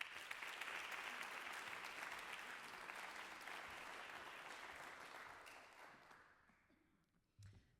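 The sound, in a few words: audience applause for a spoken-word performer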